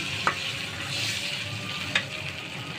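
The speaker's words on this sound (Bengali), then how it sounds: "এখানে আমি ডিমটা এখন কষাবো ভালো করে" Eggs fry in a pan for an egg bhuna with soybeans. A continuous close sizzle runs throughout, broken by two sharp scraping clinks as the eggs are stirred.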